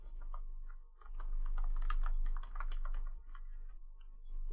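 Someone types on a computer keyboard in quick, uneven bursts of soft clicks, close by over a low steady hum, with short pauses between runs of keystrokes.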